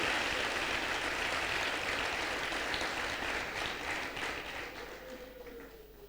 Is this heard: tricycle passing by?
no